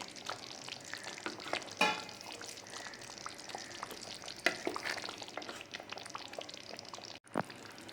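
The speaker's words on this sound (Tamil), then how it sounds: "கத்திரிக்காய் சேர்த்துட்டு நல்லா ஒரு 5 நிமிஷம் அந்த குழம்பு கொதிக்கணும்" Steady soft sizzling and bubbling of eggplant curry simmering in a pan over medium flame, with an occasional stir or clink, no voices.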